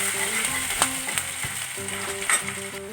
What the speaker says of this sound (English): I am going to add chopped garlic, ginger and green chilies